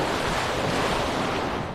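Ocean surf washing in steadily at Seacrest Beach on Florida's Highway 30A, a continuous broad roar of breaking waves with some wind noise on the microphone and no talking.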